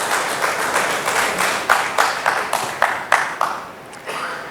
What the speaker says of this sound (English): Please welcome Mr. Jigar with a warm round of applause.